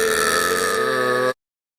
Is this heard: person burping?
yes